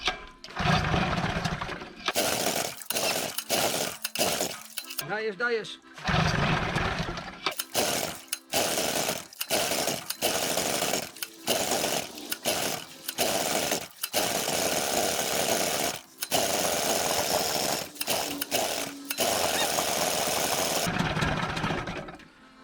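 An Evinrude 25 outboard motor, run in a barrel, revs in harsh, loud bursts that start and cut off repeatedly, with a short spoken exclamation partway through.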